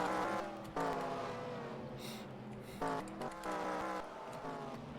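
A race car at speed in a qualifying session of a racing game roars close by, its engine pitch climbing through gear shifts with sharp drops between them, and a brief hiss partway through.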